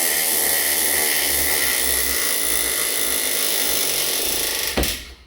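A GTM SD 3.6 cordless screwdriver drives a screw with a steady, loud, high motor whine that runs close and continuously, then cuts off abruptly near the end.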